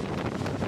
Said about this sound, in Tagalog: Nabaliktad na yung hangin.